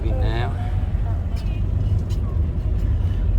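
A bus starts pulling away at the Thai border to cross the bridge into Laos, its engine rumbling low and steady from inside the cabin, with a brief voice near the start.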